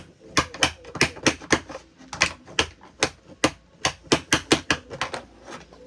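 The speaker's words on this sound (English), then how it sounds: "First, we're going to do my table and my hair straightener." A table and a hair straightener are struck by hand, giving a string of sharp, irregular knocks and clacks in uneven bursts, close and fairly loud in a quiet room.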